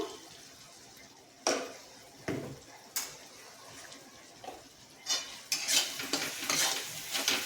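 Spices such as coriander-cumin powder, turmeric and red chilli being stirred into frying idli in a pan, giving soft intermittent scraping and clinks with a light sizzle, louder toward the end, no talk.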